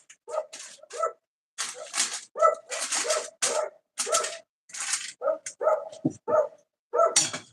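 Dogs barking in a home kitchen during a sourdough cookie bake, with sharp, fairly close barks and yips coming in quick repeated bursts with brief gaps, sounding loud and clear without talk over them.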